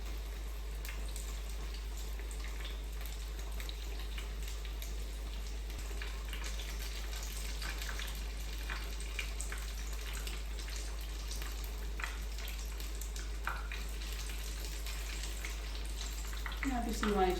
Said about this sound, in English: enjoying a little frying ASMR.